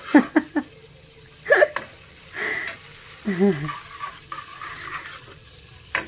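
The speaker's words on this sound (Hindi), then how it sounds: "बस इसको हमने फ्राई करना है हल्का सा हल्का सा" Rice for jaggery sweet rice fried lightly in a pan, heard as bursts of stirring and scraping with a soft sizzle, near and fairly loud, with scattered voice-like sounds in between.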